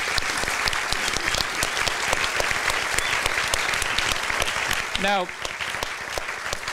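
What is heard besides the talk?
audience applause for the panel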